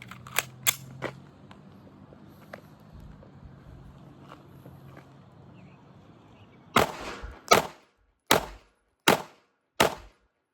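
A Smith & Wesson M&P 2.0 Performance Center Metal Comp pistol firing CCI 115 grain ball ammo: five sharp, loud shots at a steady measured pace, preceded by a few quieter clicks and thumps.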